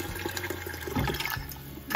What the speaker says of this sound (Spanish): Voy a echar otro poquito de agua.